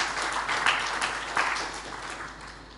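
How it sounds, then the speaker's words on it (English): Audience applause for participants at a national forestry project workshop in India, a full, steady round of clapping from a hall of people that gradually tapers off. "A big hand of applause to all these people who have participated in space syllabus."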